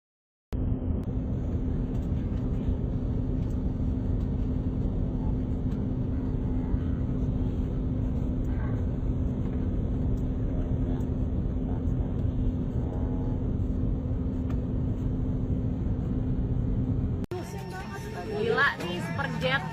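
A Superjet passenger aircraft's engines drone steadily up close, a constant low rumble with a sustained hum, and faint cabin chatter sits beneath before a brief shift near the end.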